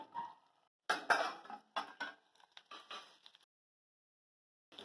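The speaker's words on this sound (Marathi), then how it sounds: "यावर एक मी ताटली ठेवत आहे" A metal plate is set as a lid over a pan of brinjals cooking in oil. A few sharp metallic clatters and scrapes come close together, then silence, then one more brief clink at the end.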